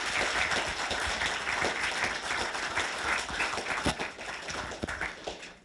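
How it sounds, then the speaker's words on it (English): An audience in a lecture hall applauds at the close of a talk by Professor Chomsky, producing a dense, sustained patter of clapping that carries on steadily for several seconds. "If we can all give a round of applause for Professor Chomsky."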